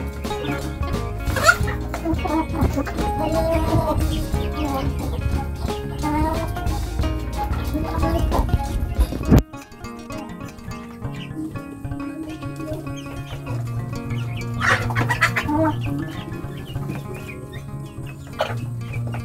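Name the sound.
chickens clucking while being fed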